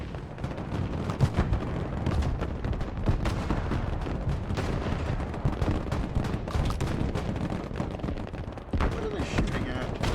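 Dense gunfire and artillery in the Broken Arrow war game, a continuous crackle of shots and heavy thuds filling the whole stretch, loud and unbroken, with voices now and then underneath.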